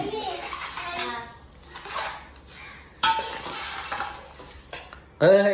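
Chivda being stirred for Diwali by a mother-in-law, a scraping, rustling sound of a ladle moving through the mix in a pan, continuing in uneven strokes with a sharper clatter near the end.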